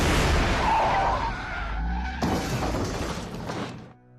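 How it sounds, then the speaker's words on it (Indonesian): The Terminator's car skids with squealing tires at high speed, then slams into a police station with a sharp crash and shattering debris that fades out. "Terminator langsung menabrakkan mobilnya ke gedung kantor polisi"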